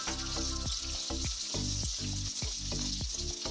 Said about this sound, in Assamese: পিয়াজখিনি অলপ ৰঙচুৱাকৈ ভাজি লম